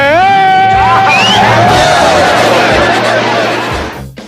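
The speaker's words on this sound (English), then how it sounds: "I hit the applause button." Canned studio applause and cheering triggered from a button during a live news show, a loud, dense wall of crowd noise with whoops, holding steady before fading away at the end.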